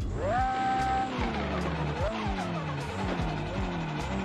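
Nissan 180SX stanced drift car with an SR20 engine revs hard and loud, its pitch climbing and falling over several throttle blips, with sharp turbo blow-off bursts between them.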